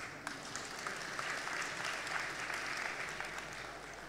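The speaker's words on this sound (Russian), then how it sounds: "Аплодисменты." A forum audience at an internet business and startups session applauds in a steady, dense wash of clapping that holds for about four seconds without letting up.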